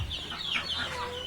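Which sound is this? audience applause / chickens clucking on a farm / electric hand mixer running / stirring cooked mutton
chickens clucking on a farm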